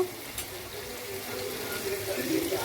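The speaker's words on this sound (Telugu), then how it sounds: "ఇదిగోండి ఫ్రెండ్స్ రొయ్యలు వేగుతున్నాయి కదండి" Raw prawns fry in a pan for prawn biryani, giving a steady, soft sizzle that builds slightly louder toward the end.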